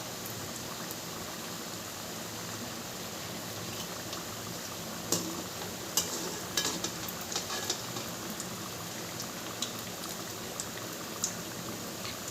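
Laddu batter frying in hot oil, a steady soft bubbling sizzle with occasional sharper crackles and pops, fairly quiet and with no voices.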